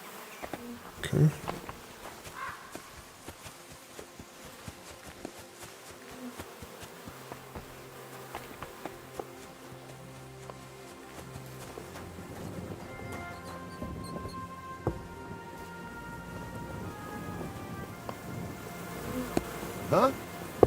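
Bees buzz in the video game Kingdom Come: Deliverance II, a continuous insect drone with flitting passes near and far, mixed with game ambience and music that builds toward the end.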